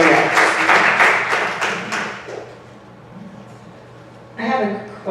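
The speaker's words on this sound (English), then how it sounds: "And I just want you to give Chuck a round of applause" An audience in a classroom discussion on race and racism breaks into a burst of clapping that fades out, followed by quieter room sound and a voice starting to speak.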